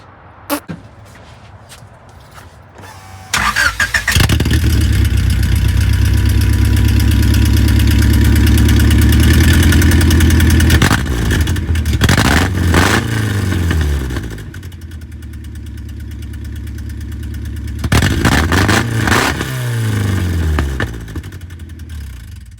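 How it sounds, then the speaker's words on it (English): A loud B20 engine with an open header fires up cold, idles roughly with a deep rumble, then revs hard several times, the pitch climbing and falling. "You guys want to hear the B20 open header?"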